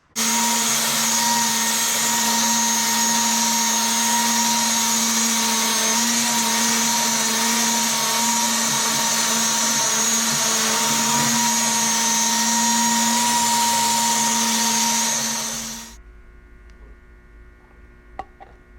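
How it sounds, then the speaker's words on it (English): A Festool palm sander hooked to a dust vacuum whirs steadily on epoxy resin, the vacuum droning alongside, loud and continuous, then both wind down and stop, leaving near silence. "I'm using the Festool palm sander. Hooked my vac."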